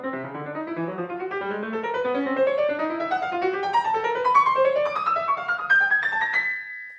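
Solo piano line from Prokofiev's Piano Concerto No. 3 played without orchestra, fast rising figures climbing steadily in pitch with a tarantella-like drive, ending on a sustained high note.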